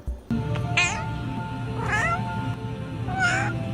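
A cat meows three times at a steady pace, each meow clear and fairly close, with a quiet background hum in between.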